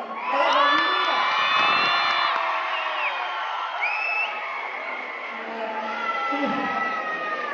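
A college hall crowd at St. Paul's College erupts in loud cheering for a dance performance, with sustained shouts, high whoops and squeals rising over a roaring mass of voices; any clapping is buried in the din.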